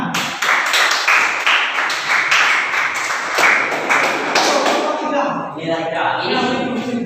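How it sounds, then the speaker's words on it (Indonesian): A class of students claps together in a classroom, a dense, steady burst of applause that fades out toward the end while voices murmur underneath. "Tepuk tangan."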